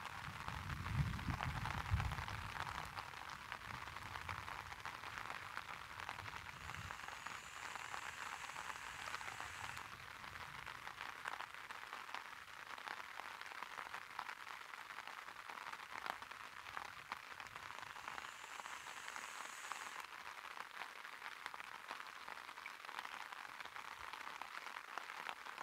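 Steady light rain falls outdoors at a fishing spot, a soft continuous patter heard at a moderate distance, with a faint high tone drifting in now and then.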